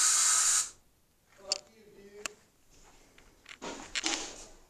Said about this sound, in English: They have bed bug spray.